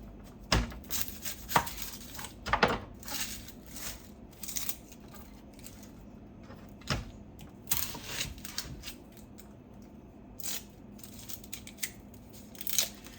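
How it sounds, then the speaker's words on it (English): A knife roughly chopping vegetables on a board for beef bone broth, with irregular bursts of sharp chops separated by pauses, close and fairly loud, with no talking. "a very, very rough chop. And then I'll be adding all of this to the broth."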